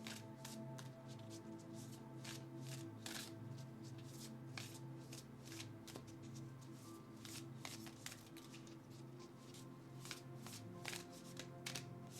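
Spirit Animal Oracle cards are shuffled by hand at close range, a run of quick soft riffles and snaps with irregular crisp clicks, quiet and with no voice over it.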